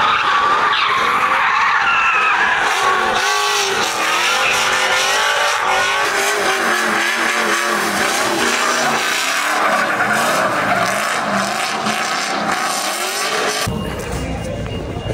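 Car drifting in the rain at a Drift Matsuri drift event, long continuous tire skidding and squealing over a revving engine, loud and close throughout.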